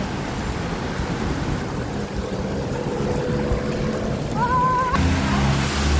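Heavy rain pouring on a street in the Philippines: a broad, steady hiss of downpour with low rumbling underneath and a brief high tonal whine near the end, recorded close while out walking.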